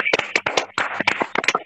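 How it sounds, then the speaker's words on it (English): Webinar participants clap over unmuted phones, a scattered, uneven patter of many hands arriving through phone lines in short bursts for under two seconds. "Unmute your phone and give a clap."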